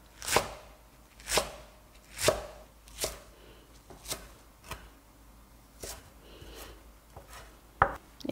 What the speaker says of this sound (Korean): 2cm 정도로 길이로 먼저 썰어 주세요